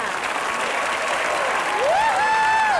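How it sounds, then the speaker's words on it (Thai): Audience applause on a live televised talent show welcoming a young contestant onstage, continuous clapping that swells slightly near the end, with a rising tonal whistle or musical sweep over it. "ขอเสียงปรบมือต้อนรับน้องนาตาลีค่ะ"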